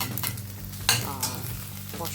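Four medium scrambled eggs frying in oil in a pan give a steady, close sizzle throughout, with stirring scrapes and a brief louder crackle near the middle.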